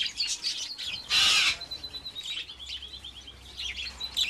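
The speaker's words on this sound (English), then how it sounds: "Most people think of budgies as cage birds, but for every budgie behind bars, there are thousands living free in the wild." Wild budgerigars in a flock give bright, rapid chirps and warbles, with one louder burst of chatter near the start, then steady twittering calls at moderate distance.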